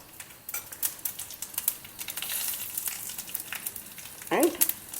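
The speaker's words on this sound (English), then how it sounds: "now we have to do the tempering for it. Add mustard seeds," Mustard seeds and cumin are tempered in hot oil with a dense, rapid crackle and spatter of small pops. Someone speaks over it briefly near the end.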